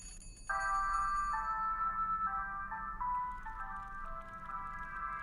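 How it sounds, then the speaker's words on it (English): A puzzle-game telephone from The Room Three rings with a bright, chiming electronic melody, repeating tonal notes that sound clear and close over a quiet low hum, with no voices. "we're going to answer the phone now"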